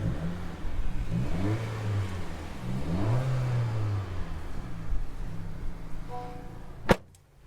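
A 2022 Honda Civic Si engine revs repeatedly, its pitch climbing and falling in several throttle blips over a steady idle, ending with a sharp click.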